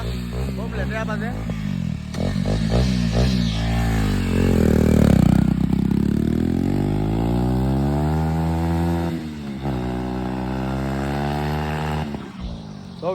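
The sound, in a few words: Duke 250 BS4 motorcycle engine revving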